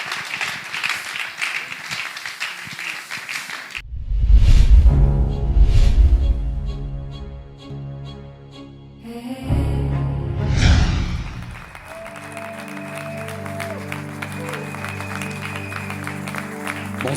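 Audience applause for a performer taking the stage at a Christian acoustic music evening, a short burst of clapping that fades as guitar and music take over, without talk.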